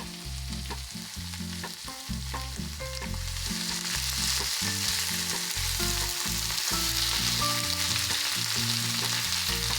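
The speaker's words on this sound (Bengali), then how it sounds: "চুলায় প্যান বসিয়ে সামান্য তেল গরম করুন সাবধানে চারকোনা মিশ্রণটি প্যানে দিয়ে দিন" Potato pancake mixture sizzles in a little hot oil in a pan, a loud steady crackle close by with intermittent clatter and background hum.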